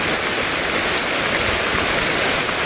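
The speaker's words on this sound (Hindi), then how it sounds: "अभी मस्त ठंडा वाला पानी चालू हो गया देख सका था पूरा तगड़ा पानी गिरा थे" Heavy rain pouring down in a dense, unbroken hiss, loud and close, with no pauses or voices.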